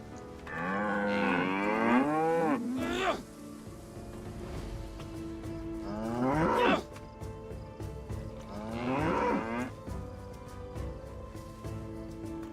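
Cows in a DayZ medieval mod give three long, drawn-out moos, each separated by a pause, with faint background sound between them.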